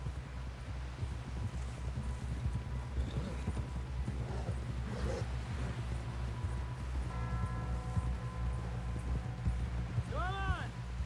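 A horse's hooves clip-clop in the video game Red Dead Redemption 2, a steady walking rhythm under a low ambient rumble, with a short whinny near the end.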